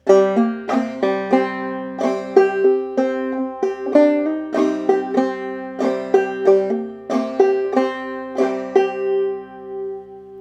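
Clawhammer banjo picking Darling Corey, a steady run of bright plucked notes and brushed strums in an even rhythm, played solo and close, with the last notes ringing out.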